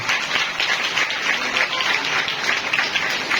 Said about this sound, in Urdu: آئیے سب سے پہلے جنہوں نے روزہ رکھا ہے ان کے لیے زوردار تالیاں بجائیں گے